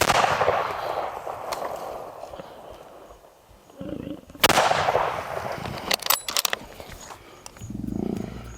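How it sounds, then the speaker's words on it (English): A gunshot fired during a lion attack in the African bush cracks out sharply in the middle, followed by a few more sharp cracks and rustling, with outdoor ambience and a low rumble before and after. "Shoot him again."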